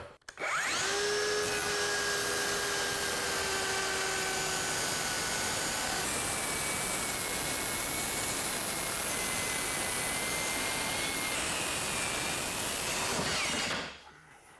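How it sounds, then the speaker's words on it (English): A power saw rips through a butcher block wood countertop in a loud, steady cut that runs almost fourteen seconds without a break. The blade's whine drifts slightly in pitch, and no one speaks over it. "Now we will clamp these two down and cut away."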